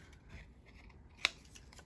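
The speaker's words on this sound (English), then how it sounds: "So I'll just get my little scissors out" Small scissors make a single crisp snip through paper scraps while a butterfly is cut out, faint and close in an otherwise quiet room.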